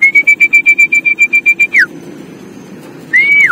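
Racing pigeons circle and return to the loft, with a loud repeating whistle or call sounding in about a dozen quick even pulses, then a sliding whistle, a quieter stretch of flutter and ambient noise, and another rising whistle at the end.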